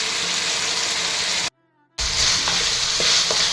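Spices and jaggery roast and get stirred in an oiled pan for Vangi Bath, a steady close sizzle with scraping strokes, broken by a brief half-second cut to near silence before the frying resumes.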